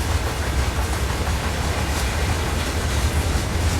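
Simulated freight train of about 50 auto racks departing on Cajon Pass in Train Sim World 3, heard as a steady, continuous low rumble with faint wheel clatter rolling on throughout, no voices.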